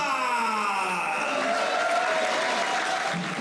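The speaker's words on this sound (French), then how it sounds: "Mesdames et messieurs, faites un tonnerre d'applaudissements pour Bacha Pehlwan Khan." A dense, sustained roar of applause from a large crowd at a wrestling match, steady and loud throughout with no talking over it.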